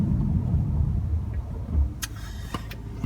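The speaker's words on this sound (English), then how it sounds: "once this car goes, we'll have right of way" A car idles and moves off at a stop sign while a 2019 Golf R waits its turn, a low steady rumble of traffic throughout, with a few sharp clicks or taps near the end.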